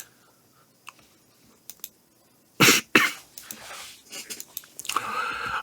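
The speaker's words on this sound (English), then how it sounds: "I don't know why I'm coughing." A man coughs indoors in a quiet room. A few faint clicks come first, then two sharp, loud coughs close together, followed by softer throat sounds and breathy noises as things settle.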